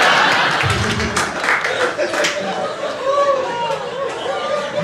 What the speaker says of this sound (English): Look at all these girls clapping.